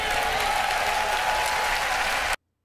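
Audience in a played recording of a church service cheering and applauding, a dense, steady wash of clapping and cheers at constant loudness that cuts off abruptly near the end.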